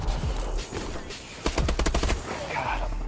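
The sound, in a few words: sniper gunfire in the video game Advanced Warfare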